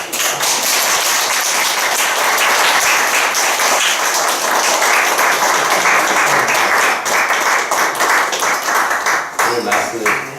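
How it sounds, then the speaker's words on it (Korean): Sustained applause from a large crowd, steady and dense clapping throughout, with a brief dip near the end. "격려하는 마음으로 박수 드리겠습니다"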